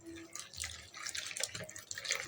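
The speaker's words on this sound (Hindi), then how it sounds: "थोड़ा सा मैं और पानी इसके अंदर शामिल करूँगी" Water trickling and dripping into a bowl of breakfast batter, a light splashy pour lasting a couple of seconds, close and fairly quiet with no talking.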